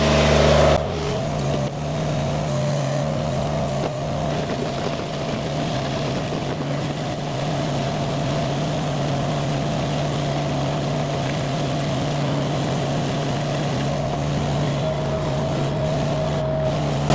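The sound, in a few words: Chinese mini skid steer with 4-in-1 bucket driving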